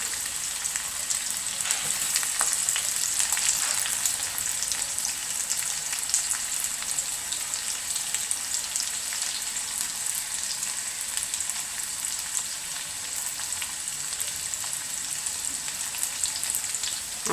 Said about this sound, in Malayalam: അപ്പോൾ ഇനി വെളുത്തുള്ളിയും ചുമന്നുള്ളിയും കൂടെ